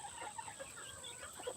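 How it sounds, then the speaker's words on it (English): Small rough backyard chickens clucking close by, a steady run of short overlapping clucks and calls with faint crowing-like notes, no speech. "There's some pretty rough chickens in here."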